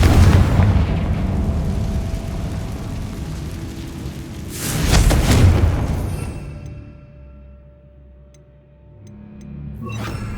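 Confringo blasting spell going off in Hogwarts Legacy, a loud rumbling explosion with a sharp second blast surging midway, then fading into quiet room tone with a final small burst at the end.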